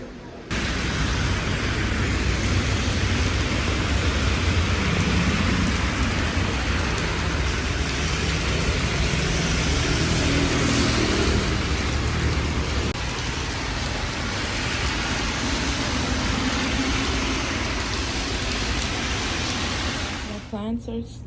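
Steady rain pours down in a dense, hissing wash that continues evenly throughout, with a voice speaking faintly beneath it.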